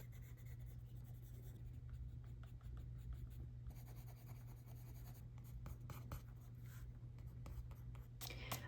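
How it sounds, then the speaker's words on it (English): Colored pencils shade across paper in a steady, close scratchy rasp, with short repeated strokes over a low constant background hum and no talking. "I'm having the hardest time shading with colored pencils on this picture."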